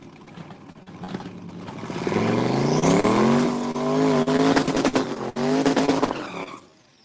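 A Chevy Camaro launches at a drag strip: an engine roar swells over a few seconds into loud, rising tire squeal, with scattered cracks, then dies away quickly.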